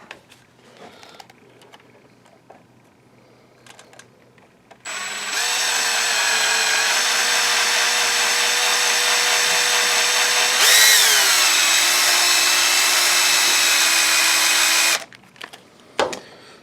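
A power drill whirs steadily for about ten seconds, pitch dipping briefly midway as it bites in, then stops; quiet room noise before and after. Drilling during a Sony VPL-AW15 projector fan repair.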